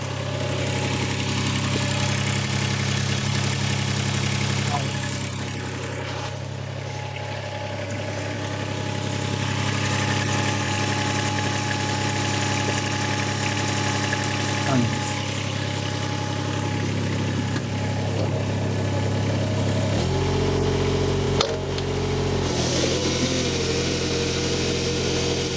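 Steady idle of a Toro Greensmaster greens mower engine, a continuous low rumbling putter heard close for the whole stretch, with a brief clunk and a deeper shift in tone near the end.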